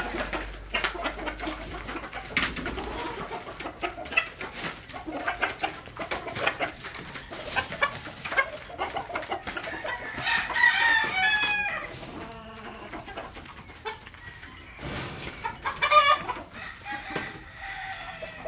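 Chickens clucking and a rooster crowing while being fed mixed feed, a dense busy flock of overlapping clucks and calls close by, with no talk.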